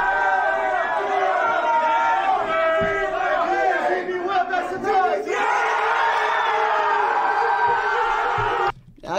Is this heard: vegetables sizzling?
no